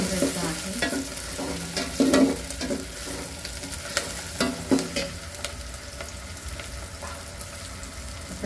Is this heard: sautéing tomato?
yes